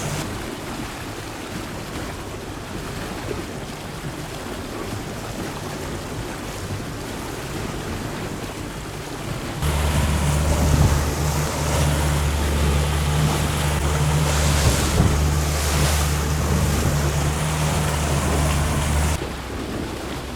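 Waves and wind buffet a small boat at sea in choppy, rising water, a steady rushing roar that swells louder and fuller about halfway through and continues without speech.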